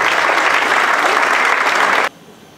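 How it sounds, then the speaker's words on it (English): A large audience at a High Sheriff awards ceremony applauds loudly and evenly in a hall, a thick wash of clapping that stops abruptly near the end, leaving quiet room tone. "Let's give them all a huge round of applause."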